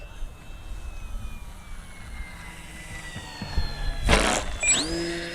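An FMS Ranger RC model airplane comes in to land on grass, its electric motor whining with falling pitch, then a brief rushing burst on touchdown before the motor tone rises again, moderately close.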